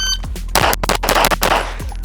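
Rapid pistol shots from an Infinity Calvin's Cherry handgun crack in a quick string at a shooting range, several loud, sharp reports fired close together.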